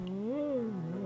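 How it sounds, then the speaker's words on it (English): A calico Siamese cat lets out a single drawn-out, wavering meow, close and fairly quiet, with no talk over it. "it's a kitty. Edge is here. My calico Siamese child."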